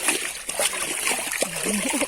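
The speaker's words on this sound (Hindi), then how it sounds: "तो पुप्पो भी साथ कपड़े धो रही हैं अपने।" Clothes being washed by hand in cold winter canal water, with close splashing and sloshing across the short stretch and faint voices in the background.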